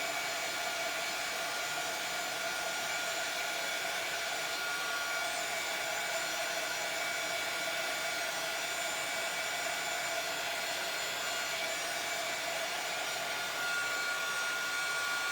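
A blow dryer runs steadily and loudly, close up, drying the hair of a Highland cow in a barn, a constant whooshing roar with no pauses and no talking.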